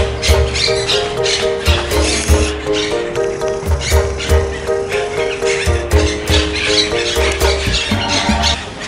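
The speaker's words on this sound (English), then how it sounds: "It's a blue and yellow macaw." A blue and yellow macaw at a zoo gives loud, harsh squawks, repeated steadily and close by, with no other sound competing.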